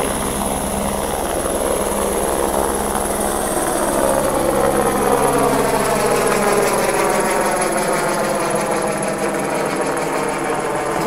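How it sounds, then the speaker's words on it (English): A helicopter in Trentino Alto Adige, Italy, makes a loud, steady rotor and engine roar that stays close and constant throughout, with no voices. "Bye bye, helicopter."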